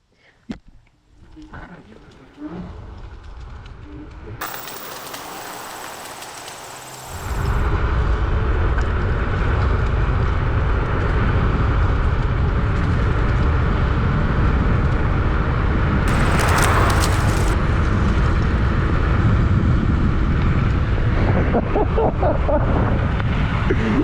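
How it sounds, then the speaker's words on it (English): A budget dual-motor electric scooter in race mode accelerates hard, its rising whine swelling under strong wind rush that grows steadily louder and stays loud as speed builds, with a voice heard early on. "So first things first, we're gonna do an acceleration test. Dual wheels, race mode."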